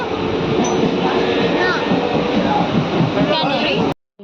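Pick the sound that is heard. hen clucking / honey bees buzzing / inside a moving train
inside a moving train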